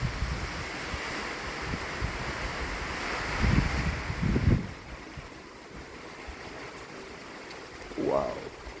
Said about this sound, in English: Listen to the rain. Oh my goodness, there's a gust of wind right there.